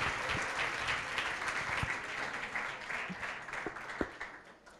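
A modest crowd claps at a circular-economy pitch event in a museum, soft continuous applause with a few sharper individual claps standing out.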